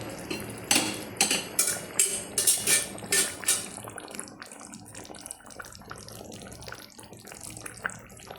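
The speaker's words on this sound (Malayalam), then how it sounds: "അതുകൂടെ ഒന്ന് കഴുകി വെള്ളം ഒഴിക്കണം" Water splashes in a quick run of rhythmic pours into a cooker pot to rinse it, followed by a softer, continuous trickle and wash, close by.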